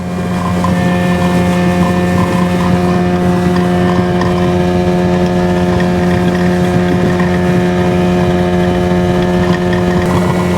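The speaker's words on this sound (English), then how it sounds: "This boat is fast for a little 40 horse." A 16-foot Bass Tracker boat's 40 hp Johnson outboard engine drones steadily and loudly at high revs, about 30 mph, a constant hum with water and wind noise throughout, no voices.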